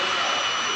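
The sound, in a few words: J60 jet engine of jet car winding up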